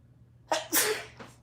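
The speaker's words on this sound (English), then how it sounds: "I feel a sneeze coming on." A single loud sneeze from a woman crafting at a table, a sharp intake followed by two explosive bursts and a fading tail, close and alone.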